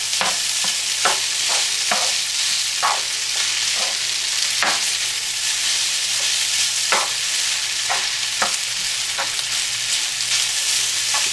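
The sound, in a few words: homemade noodles frying in a pan on high heat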